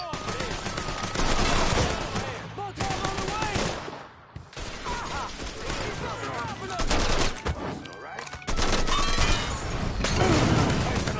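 Shotgun blasts and other gunfire in the video game Mafia 3, repeated heavy bursts in quick succession, loud and close, mixed with game voices talking.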